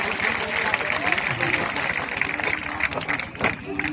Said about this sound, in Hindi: जोरदार ताली बजा के हीरा जी का स्वागत करिए